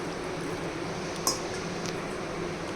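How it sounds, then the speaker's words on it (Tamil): Half a tumbler of water is poured into a mixer jar while preparing chicken gravy, giving a soft, continuous trickle under steady background hiss with a brief splash midway. "கைஸ் ஒரு அரை டம்ளர் தண்ணி ஊற்றிக்கலாம்."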